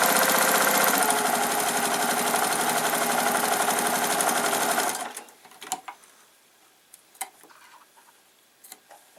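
A sewing machine stitches quilt pieces in one steady, close run lasting about five seconds, then stops, followed by a few light clicks and handling taps.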